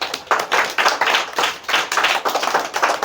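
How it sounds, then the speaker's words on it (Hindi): Young children clap together at a school, rhythmic bursts of hand claps in a repeated beat, close and fairly loud, with slight unevenness between claps and no voices. "बच्चों बजाए ताली"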